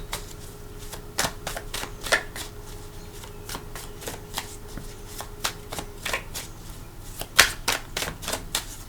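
Rapid riffle shuffles of a tarot card deck, crisp flapping bursts repeating several times in a row, close by and fairly quiet, with no talking.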